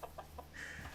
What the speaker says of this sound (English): He's a funny little rooster, but he rules the flock